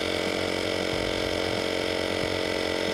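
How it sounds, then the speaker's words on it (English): A small cheap remote air compressor runs continuously while inflating an air ride receiver hitch, a steady buzzing motor whine close by with no talk. "air up the hitch using a simple little procedure, little remote air compressors"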